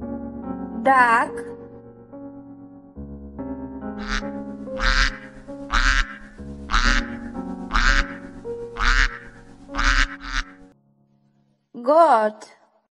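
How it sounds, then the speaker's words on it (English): A duck gives a run of about eight loud, evenly spaced quacks over gentle background music, with brief voices at the start and end. "Duck."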